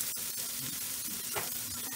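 Onions sizzle and fry in hot oil in a home kitchen pan, a steady close crackle with a brief stirring scrape near the middle, no voices.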